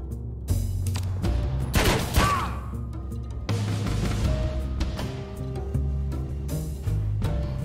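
Gunfire in the John Wick Hex video game, a series of sharp, loud shots and impacts over a low musical background, irregularly spaced through the passage with no talking.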